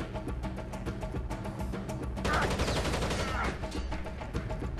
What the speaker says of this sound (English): you're shooting me through the floor!